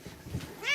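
A cat gives a brief, close meow, a single short call that rises at the end.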